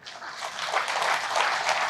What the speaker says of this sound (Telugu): గోపీనాథ్ సార్ది ఒక్కసారి సార్కి గట్టిగా చప్పట్లు కొడదామండి